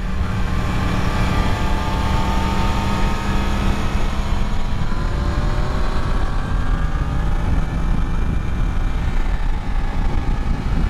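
A Yamaha MT-10 motorcycle engine drones steadily while riding in extreme heat, its rising and falling engine tones partly buried under loud, constant wind rush.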